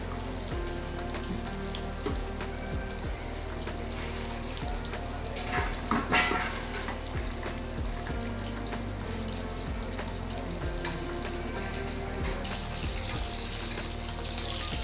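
Fish frying in oil makes a quiet, even sizzle that runs steadily throughout, with a few faint clinks and a brief louder crackle partway through, with no speech.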